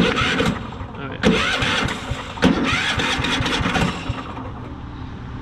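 A Cub Cadet GT2 LX42 lawn tractor, which has a no-start problem, is cranked with the starter in several bursts. The engine catches with sputtering and uneven revving, heard up close, and a person talks over it.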